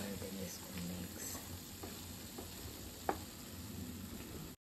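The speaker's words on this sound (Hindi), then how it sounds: "हो गया हमारा आलू, इसमें डालेंगे बटर, कर देंगे इसको मिक्स।" Cooked potatoes being mixed with butter in a pan, a faint low sizzle under a steady hiss, with a few soft scrapes and one brief clink of the spoon.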